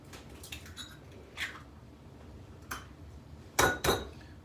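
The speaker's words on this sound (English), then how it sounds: "we're going to crack the eggs into the bowl" Eggs cracked against a bowl for an omelet in a kitchen: a few soft taps, then two sharp, louder knocks close together near the end, quiet and close with no talk.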